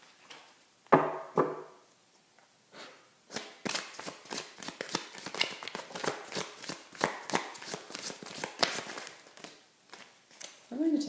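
Tarot cards being shuffled by hand in a run of crisp, rapid riffling bursts, with a few sharper taps and flicks at the start; close and fairly loud, no talking.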